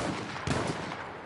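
Sniper rifle fire in Battlefield 1, a dense burst of gunshots with a sharp loud crack near the middle, close and dominant, with no talking.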